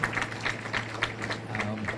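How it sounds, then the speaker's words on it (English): An audience at a hospital gathering claps for Dr. John and his team, with a rhythmic pattern of separate claps over a steady low hum and some murmuring. "a big thank you and a big clap for them"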